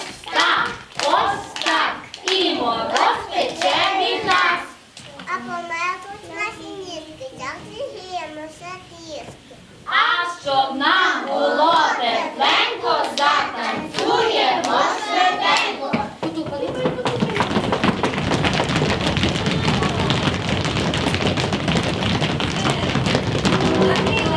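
Young children at a kindergarten New Year party clap their hands, the taps uneven and scattered among their chatter and a singing voice, followed by a long stretch of steady, washy crowd noise.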